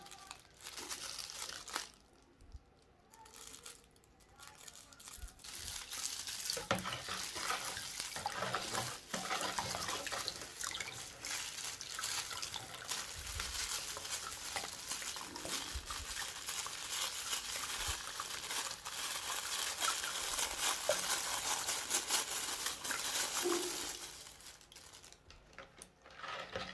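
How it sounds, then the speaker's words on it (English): Salt being added to a bowl of water and stirred while making homemade liquid soap, heard as faint crinkly scraping and sloshing that runs steadily for most of the time, close but quiet with no talking. "The next thing now is to add our salt to the water."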